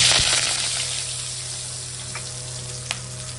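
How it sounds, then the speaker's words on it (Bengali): Cardamom pods, cloves, cinnamon and a split bay leaf sizzle in hot oil in a kadai for a Bengali fish curry, giving a steady, fairly loud crackle with a couple of sharp pops. "তারপরে এখন কড়া ওই তেলের মধ্যেই এখন সম্বার দেবো"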